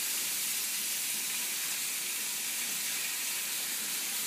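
Lamb pieces searing in a big pan give off a steady, loud, bright sizzle with an even hiss throughout and no pauses.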